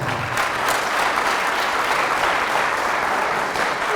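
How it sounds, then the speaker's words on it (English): A dense, steady roar of crowd applause fills the space, loud and continuous with no pauses, as an audience claps for themselves at an entrepreneurship talk. "Clap for yourselves."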